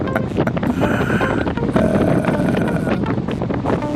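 Strong wind roars across the microphone during a fast road-cycling ride, a loud continuous buffeting rush with gusty swells and no voices.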